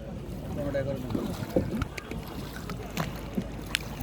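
Many small boats move on a river in the rainy season, heard as water sloshing against hulls amid gusty wind on the microphone, with faint voices in the background.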